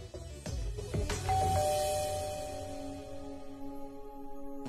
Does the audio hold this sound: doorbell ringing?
yes